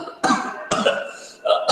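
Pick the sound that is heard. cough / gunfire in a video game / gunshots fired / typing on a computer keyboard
cough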